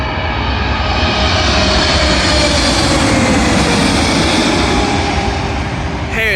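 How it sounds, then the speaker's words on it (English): An Air Canada Boeing 777 from Toronto landing at London Heathrow on runway 27L, a loud continuous jet engine roar that holds steady and fills the whole stretch. "Arriving in now is an Air Canada Boeing 777 from Toronto."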